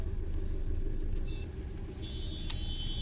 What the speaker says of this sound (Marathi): पण इथं खूपच ट्रॅफिक आहे.